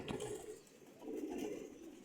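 Pigeons kept in a loft give two faint, low, throaty coos, one short and one longer, with no talking.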